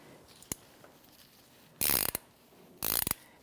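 An 18mm ratchet wrench tightens the sway bar bushing lock nut on a 2009-2014 Nissan Maxima, two quick bursts of rapid ratcheting clicks after a single sharp tap, close and clear.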